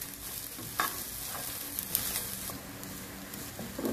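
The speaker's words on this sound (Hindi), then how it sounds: "ऑरेगानो लीव्स और हरा धनिया। अब इसको अच्छी तरह मिक्स करेंगे।" Chicken is being tossed and mixed with oregano leaves and green coriander in a hot pan for baked chicken with flatbread. Soft scraping stirs sound over a faint, steady sizzle, with a few sharper clinks and no speech.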